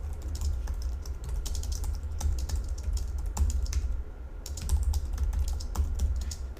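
Fingers type code on a computer keyboard in a quick, irregular stream of close, crisp key clicks, with a brief pause midway, over a low background hum.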